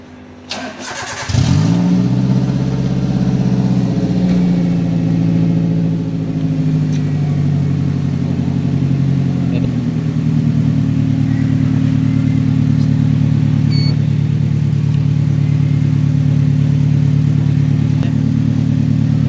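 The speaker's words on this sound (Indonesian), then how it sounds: "Nyalakan mesin" Car engine starting after periodic service with the car up on a lift: a sharp crank and catch, then a loud close idle that steadies, drops slightly around ten seconds and runs on evenly.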